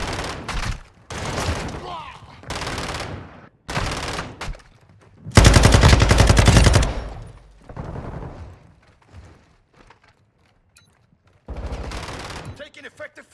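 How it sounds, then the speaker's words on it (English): Bursts of automatic gunfire in Call of Duty: Modern Warfare II, loud and close, coming in several separate rapid volleys with short radio-style voice lines between them. "Taking effective fire."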